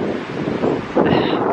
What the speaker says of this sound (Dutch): Het waait verschrikkelijk weer.